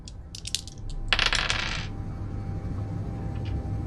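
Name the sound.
dice being rolled in Space Engineers video game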